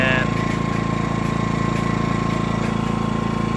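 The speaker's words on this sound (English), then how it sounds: "I heard no change in engine speed when I plugged it in." A Predator 2000 generator runs under a 200-watt load, its engine holding a steady, loud mid-pitched drone with an even, unchanging speed from start to finish.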